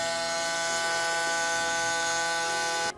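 A Braun Series 9 electric shaver cleaning station (model 9290cc) runs with a steady, close, buzzing drone that cuts off abruptly at the end.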